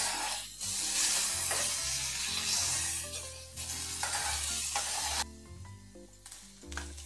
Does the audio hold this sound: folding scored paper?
no